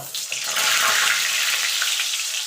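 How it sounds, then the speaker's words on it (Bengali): Potatoes hit hot oil in a wok with a sudden loud, steady hiss and crackle that stays close and even throughout, with no voices. "তেলও গরম হয়ে গেছে এবার আলুগুলোকে ভেজে নেব"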